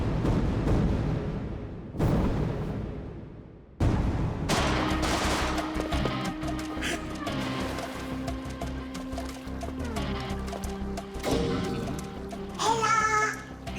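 Bursts of loud gunfire and heavy impacts crash repeatedly through an episode of The Ghost in the Shell anime, with rapid shots, rumbling blasts and a dense action soundtrack behind them; brief speech is faintly present.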